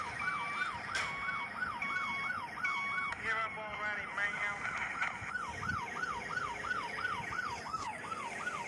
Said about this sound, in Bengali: পুলিশের গাড়ি